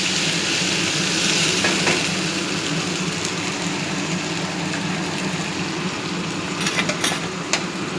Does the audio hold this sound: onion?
yes